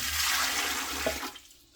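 Warm water poured from a measuring cup into a mixing bowl for a homemade stuffing bread recipe, giving a steady, close gush of liquid that lasts about a second and then drops to quiet.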